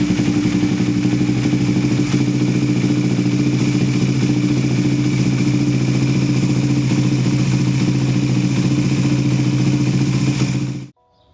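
A Suzuki GSX 150 motorcycle engine running steadily at close range, a loud, even throbbing hum with a mechanical clatter, continuing unbroken before cutting off abruptly near the end.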